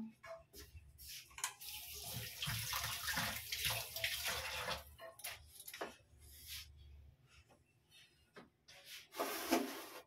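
Paneer is cut into small pieces with a knife on a board for a potato curry, giving irregular close scraping and soft tapping strokes with brief pauses and no talk.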